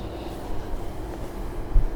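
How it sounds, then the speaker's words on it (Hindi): A train slows and comes to a stop near a level crossing, a steady low rumble of rolling wagons with no voices, swelling slightly at the end. "रेलगाड़ी फाटक के पास आते आते रुक गई।"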